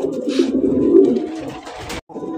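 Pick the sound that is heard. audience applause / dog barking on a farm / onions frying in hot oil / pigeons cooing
pigeons cooing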